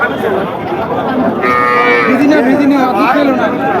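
A dairy cow moos at a busy cattle market in Chaugachha, one long, loud, close bellow against a background of crowd chatter.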